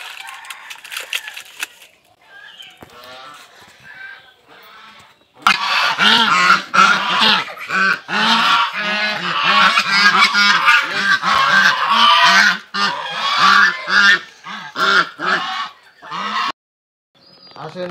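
Ducks calling loudly while feed is prepared on a poultry farm, a dense chorus of repeated honking quacks starting sparse then rising to a steady close clamor.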